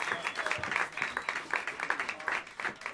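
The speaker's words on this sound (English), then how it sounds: "please help me welcome them to the stage with some warm applause" An audience at Smalls Jazz Club in New York City claps warmly and steadily throughout, a dense, close patter of many hands with no break.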